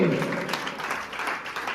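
Brief audience applause at an English coaching academy event, a short burst of clapping mixed with a speaking voice over under two seconds.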